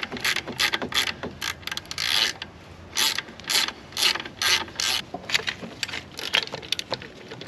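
A hand ratchet clicks in quick, rhythmic bursts while loosening the alternator wire nut on a Jeep Wrangler with a 3.8L engine, close and clear with no talking.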